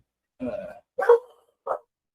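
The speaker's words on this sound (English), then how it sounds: "That is my dog." A pet dog gives three short, sharp barks or yips, separated by brief silences, close to the microphone during an online video call, with no talk over them.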